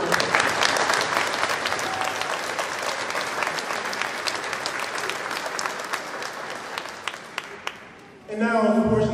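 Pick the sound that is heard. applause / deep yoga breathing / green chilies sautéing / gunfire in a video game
applause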